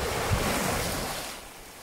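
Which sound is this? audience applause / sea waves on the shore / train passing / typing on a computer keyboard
sea waves on the shore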